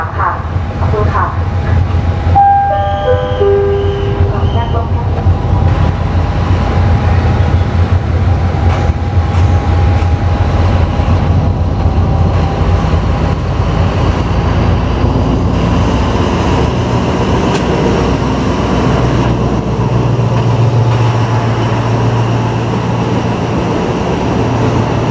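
Alsthom diesel-electric locomotive with a Pielstick 16PA4V185VG engine at a Thai railway platform, a steady loud engine drone and rumble throughout, with a brief rising horn-like tone near the start and faint voices in the background.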